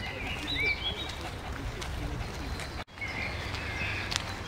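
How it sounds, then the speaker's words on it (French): Birds chirp and call in short, scattered bursts around a lake, thin and fairly close, over a steady low outdoor rumble with a brief dropout midway. "Je vais me taire un peu, parce que sinon, on n'entend pas les oiseaux"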